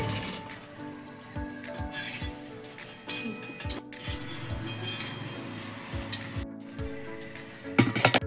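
Fried black lentil fritters for rasbora are lifted out of the pan and dropped into sugar syrup, with a series of clinks and scrapes from a metal utensil against the vessel at a fairly regular pace, close by.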